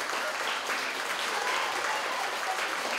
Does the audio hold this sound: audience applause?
yes